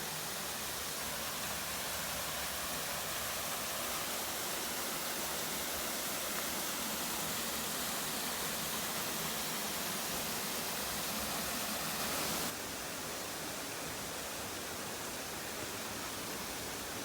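A waterfall near Mathugama roars as a dense, unbroken wash of falling water. The sound is steady and full-bodied from start to finish, with no voices.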